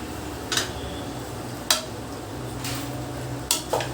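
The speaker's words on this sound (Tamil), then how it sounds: "இது ரெண்டுத்தையும் சேர்த்து நம்ம கலந்து விட்டுடலாம்." Chopped onion and tomato stirred into a fig and lentil pot, a spoon scraping the metal pan in a few separate clinks and scrapes over a low steady background.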